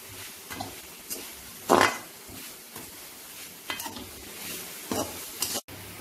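Sweet poha with sesame and cardamom sugar stirred in a pan over a medium flame, with scattered scraping and tapping of the spoon against the pan over a low sizzle.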